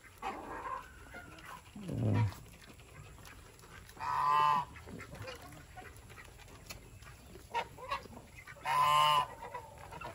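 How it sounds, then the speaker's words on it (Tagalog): Several loud bleating calls from goats, spaced a few seconds apart, with rustling and other animal noise in between. "Ito na po yung ano, mga kambing. Ayan na sila."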